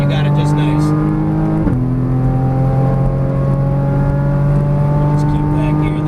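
A Porsche Cayman GTS engine hums steadily from inside the cabin as it is driven through a turn, with a downshift briefly shifting the tone, while an instructor gives directions over the drone.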